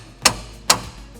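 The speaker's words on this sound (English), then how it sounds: "I need something to hammer it further." Two sharp metallic hammer blows on a bolt of a 1968 Camaro rear suspension link, spaced about half a second apart, close and fairly loud in a quiet garage.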